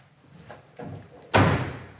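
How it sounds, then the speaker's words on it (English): A couple of soft clicks and a muffled thump, then a solid door on a 1965 Mustang Fastback restomod slams shut close by, its thud fading out. "Doors open and close."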